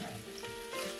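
Potatoes sizzle and fry steadily in a pan as scrambled tofu is folded in, a continuous soft crackling hiss with faint stirring, no voices.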